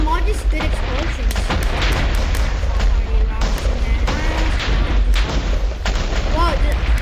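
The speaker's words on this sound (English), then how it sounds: "I'm lagging from all these good explosions" TNT explosions in a video game make a continuous dense roar of overlapping booms and crackling blasts, loud and close throughout.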